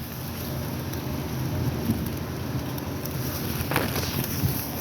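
Steady rain falling outdoors, a constant even hiss throughout with no talk.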